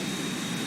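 A Boeing 737-800 jet engine in the Zibo flight simulator gives a steady broadband roar with a low rumble, holding constant and fairly quiet through a very short stretch.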